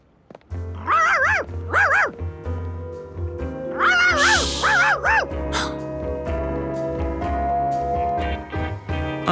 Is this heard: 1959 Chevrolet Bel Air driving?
no